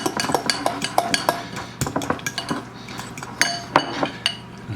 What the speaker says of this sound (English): And then you just mix this all up really well with the same fork